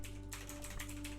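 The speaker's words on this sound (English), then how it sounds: "am I typing in the wrong thing?" Someone types on a computer keyboard, giving a quick run of light clicks under a steady electrical hum in a quiet room.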